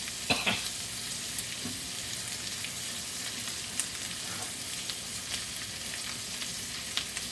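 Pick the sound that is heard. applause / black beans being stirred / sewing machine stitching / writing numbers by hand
black beans being stirred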